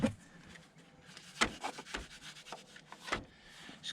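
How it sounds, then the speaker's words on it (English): Protective film being squeegeed onto the frame of a BMW GS 1200/1250 motorcycle, heard as quiet, close rubbing and scraping strokes in an irregular rhythm, with a few sharper swipes. "squeegee it down"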